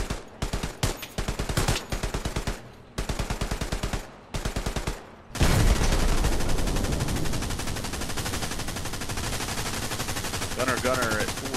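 Tank and machine gun fire in the video game Hell Let Loose: several rapid bursts of automatic fire separated by short pauses, then a loud, sustained roar of continuous fire that carries on to the end.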